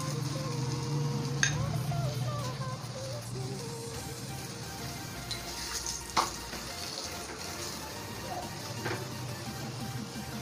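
An egg roll paratha fries in refined oil on a pan, a steady soft sizzle close by with a few scraping touches, under quiet background noise.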